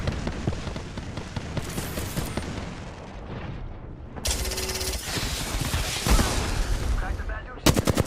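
Gunfire in the Apex Legends video game: dense, close bursts of automatic fire mixed with booming blasts. The shots come in several surges with short lulls between them.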